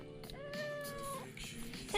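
A cat gives one drawn-out, wavering meow close by over faint household background, followed by a brief chirp at the end.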